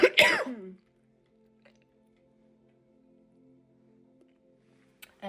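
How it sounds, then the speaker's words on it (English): A single harsh cough or throat-clearing burst at the start, close and loud, then near silence with faint low hum and a small click at the end. "Excuse me for the coughing."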